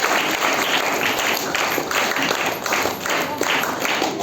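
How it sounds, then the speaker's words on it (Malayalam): A school audience at a government high school in Idukki breaks into full, sustained applause, many hands clapping in a dense, even roar that stays strong throughout. "എല്ലാവരും നല്ല ഒരു നിറഞ്ഞ കൈയടി കൊടുത്ത്"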